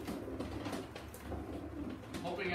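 A pigeon from a racing pigeon loft coos softly in repeated low, throaty phrases, faint and close amid quiet background noise, with no talk.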